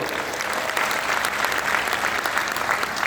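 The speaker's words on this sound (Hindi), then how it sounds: "महिपाल सर के लिए भी जोरदार तालियां होनी चाहिए" A loud, dense round of audience applause at a company gathering, continuous and even throughout with no voices over it.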